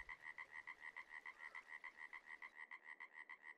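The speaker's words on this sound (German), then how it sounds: "Deswegen vielleicht auch dieses ganze Gequake von den Fröschen." Frogs croak in a steady rapid pulse in the Farming Simulator 22 video game, a continuous rhythmic chorus of evenly spaced calls, fairly faint and heard alone.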